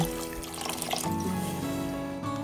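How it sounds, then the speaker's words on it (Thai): Water poured into a pot of Thai curry paste and fried pork belly for kaeng tay poe, a steady close splashing and trickling pour that runs alone for about two seconds. "จากนั้นใส่น้ำเปล่าลงไปประมาณ 3 ถ้วยตวง"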